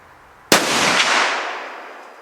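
A single sharp report from a Ruger American .308 rifle at a rustic log cabin deer hunting camp, an abrupt loud crack followed by a long, fading outdoor echo.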